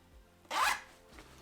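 A zipper on a pocket of a GORUCK GR2 26L backpack with coyote brown pulls is drawn once in a quick, close rasp, with a fainter second tug just after in a quiet room.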